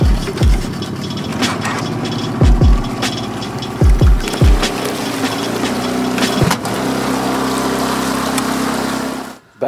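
An outboard motor drives a jon boat across the water with a steady engine drone and hull and water noise, broken by several low thumps and knocks before the run cuts off at the end.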